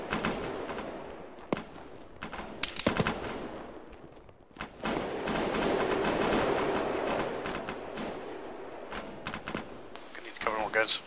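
Gunfire in an Arma ShackTac multiplayer battle: sharp single shots, then dense overlapping bursts and echoing volleys, mixed with radio chatter and voices.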